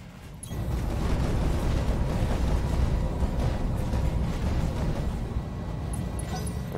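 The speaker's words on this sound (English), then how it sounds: "A thumper cannon is badass." A thumper cannon shot explodes in the mech combat game BattleTech, setting off a heavy, sustained rumbling roar that stays loud and dense for several seconds after a brief quiet start.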